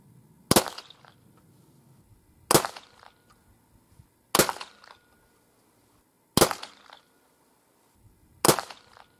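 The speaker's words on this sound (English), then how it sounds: "I fired 5 shots, about a 25 grain powder charge, and I was using the spacers on this round" Five sharp shots from a 50-caliber muzzleloader with a light 25-grain powder charge, spaced about two seconds apart. Each crack is loud and close with a short ringing tail, followed by quiet between shots.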